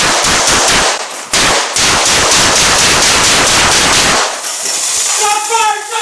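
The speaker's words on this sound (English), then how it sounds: "Shots fired, start a squad." A rapid burst of gunshots rings out during a police confrontation. Loud, close cracks fire in quick succession and echo, then give way to hiss and noisy radio chatter near the end.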